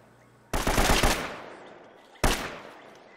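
Two bursts of rapid machine gun fire in Uncharted: Drake's Fortune, a long loud rattling volley followed by a short sharp burst after a pause, with no voices.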